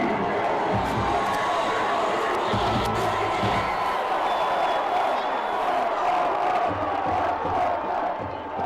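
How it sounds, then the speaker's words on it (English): Dense roaring crowd at a Steubenville Big Red versus Massillon Tigers high school football game, loud and sustained throughout with swells of cheering and scattered sharp claps and thumps. "Look at this crowd. This place is electric"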